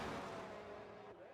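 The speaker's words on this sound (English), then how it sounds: "as you can hear the fireworks going off" Fireworks pop in quick bursts during an iRacing race at Mexico, short and sharp over a steady car engine drone, all within a brief moment.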